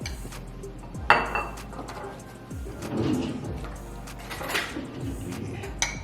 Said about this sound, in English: so red beans and rice are ready, so I'm gonna go ahead and plate them up